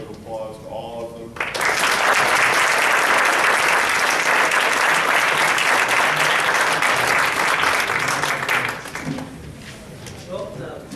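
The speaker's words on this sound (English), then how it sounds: "I want to give a round of applause to all of them" A campus debate audience erupts into a long round of applause for the panelists, dense, even clapping that rises sharply, holds for about seven seconds, then fades as a voice resumes.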